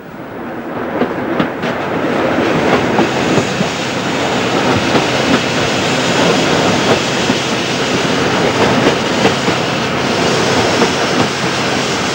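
The Wilmot locomotive runs on the Metropolitan line's Chesham branch, a loud continuous rumble of moving rail cars with steady clickety-clack and faint wheel squeal, close by and without speech.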